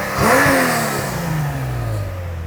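A Subaru GC8 fitted with a swapped 3.6-litre flat-six engine revs once sharply, then settles into a falling, steady idle-like drone, loud and close with no talking.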